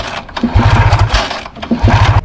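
A Sachs KM48 rotary engine on a drift kart is cranked but fails to catch. It gives two bursts of rapid, loud chugging pulses, each ending without the engine running.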